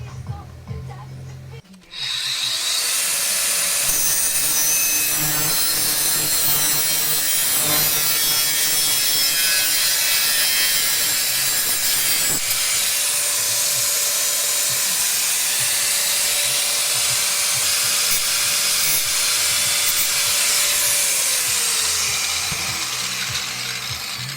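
Sheet metal being cut on an Opel Omega car body during welding repair work, a loud continuous harsh rasping and grinding cut that starts abruptly after a brief pause and runs steadily to the end, close up.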